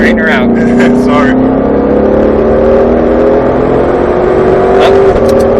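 A Ford GT500 engine on a track holds a steady, loud drone with rising pitch as it pulls through a gear, with some intermittent whir and a voice faintly present early on.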